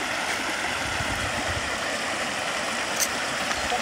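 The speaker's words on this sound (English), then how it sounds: "पानी के झरना ये पानी आ रहा है बड़ा प्योर पानी" A Himalayan mountain stream flows in a steady, even rush of water, close and moderately loud, with no voices over it.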